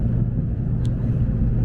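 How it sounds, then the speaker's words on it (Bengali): Japanese Shinkansen bullet train pulling away from a station, heard from inside as a steady, loud low rumble and hum, with a brief faint high chirp partway through. "চালু হয়ে গেছে আমাদের ট্রেন।"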